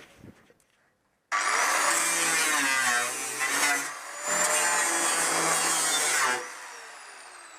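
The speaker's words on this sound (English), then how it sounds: "I'm going to cut it off and try to make it a nice clean cut" A power tool cuts through a rusted, poorly patch-welded front car panel with a loud, harsh, whining grind at close range, running in two long passes with a brief dip between them.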